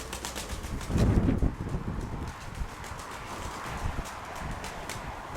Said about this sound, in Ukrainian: Масовий підйом голубів